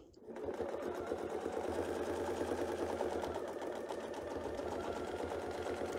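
A sewing machine stitches with a Westalee Spin E Fex ruler, starting abruptly and running at a steady, rapid pace, loud and close with no speech over it.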